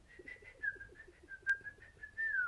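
A person whistles an imitation of a little bird singing, a string of short warbling chirps and trills at moderate volume, close and alone with a faint hush behind.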